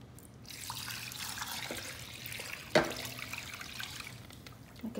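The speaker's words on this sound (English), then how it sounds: "I'm just gonna pour it over my ribs in the crock pot." A sticky brown sugar and pineapple juice mixture pours over baby back ribs in a crock pot, a soft continuous trickle and splash close by, with one louder plop midway and no speech.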